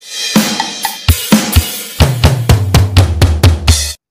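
A drum pattern plays alone, starting with sparse hits on snare and toms, then settling into a steady, driving beat with repeated kicks and cymbal crashes.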